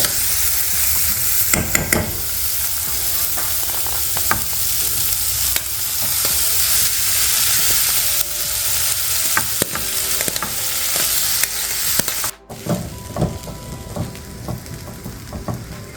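Vermicelli and peas for shevaya upma sizzle in a pan while being stirred, a close, steady frying crackle with spoon scrapes, briefly cut off near the end before resuming more softly.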